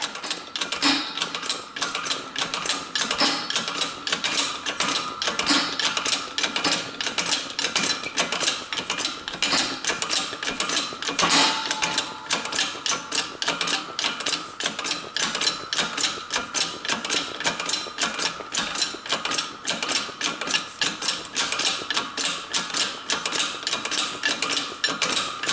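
Bearing being pressed into a chop saw, a dense run of rapid metallic clicks and knocks repeating steadily and loudly for the whole stretch, with no talk.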